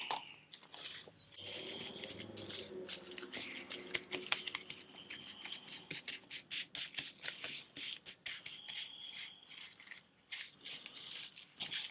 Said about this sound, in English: And then squish my tissue into the Mod Podge.